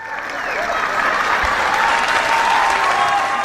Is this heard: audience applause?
yes